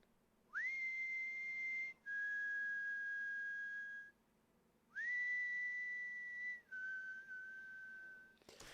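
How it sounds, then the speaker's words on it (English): A person whistles four long, clear notes in two pairs, each pair rising then settling lower, with a short pause between pairs. "first step was to record myself whistling, and this is the whistle that we get."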